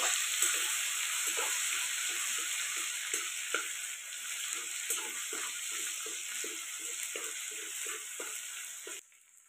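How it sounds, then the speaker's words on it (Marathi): Steady, close sizzle of tempering spices frying in hot oil on a wood-fired clay stove, with soft spoon scrapes repeating throughout before the sound cuts off at the end. "फोडणीचं साहित्य छान तेलामध्ये तळून घ्यायचं."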